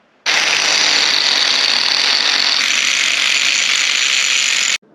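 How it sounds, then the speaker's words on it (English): An angle grinder bears down on an axle, a loud, continuous high-pitched grinding that starts abruptly, holds steady for about four and a half seconds with a slight shift in tone midway, then cuts off sharply. "now we're gonna take it down with the grinder"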